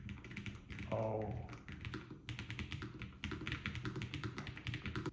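Someone types on a LOFREE FLOW mechanical keyboard, producing a rapid, soft, fairly quiet patter of key taps with a brief rustling sound near the start.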